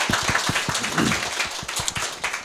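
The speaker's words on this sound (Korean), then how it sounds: "김어준한테 박수." A lecture audience claps for a guest at a political party event, with loose, uneven hand claps and individual sharp slaps over a busy room murmur, heard fairly close.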